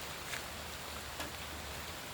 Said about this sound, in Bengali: আমরা দেখি এই মেশিনের উপর যে পানিটা পড়তেছে,